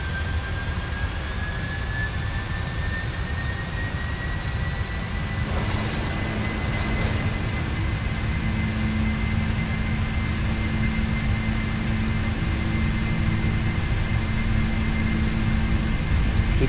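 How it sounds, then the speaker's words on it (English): Simulated Boeing 747-400 jet engines in Prepar3D roar steadily through a takeoff roll, a dense, constant rumble with a rising whine running throughout. "Queen Sky 747 Heavy, cleared for takeoff, 28 right."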